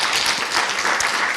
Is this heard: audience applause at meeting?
yes